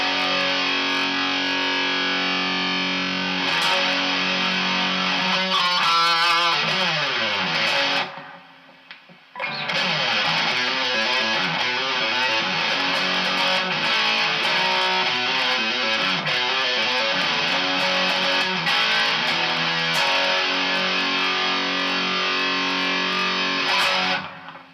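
Pink Jackson Soloist SL3X electric guitar through an angry Marshall amp, played 80s style: loud, saturated distorted riffs and sustained chords with fast runs, a brief drop to near silence midway, then heavy playing resumes, close and without talking.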